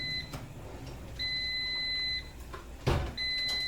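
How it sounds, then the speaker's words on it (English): Long electronic beeps from an appliance, sustained high tones repeating in a steady pattern, with a brief clunk between them in a quiet room. "well, there's the beep there. It was late."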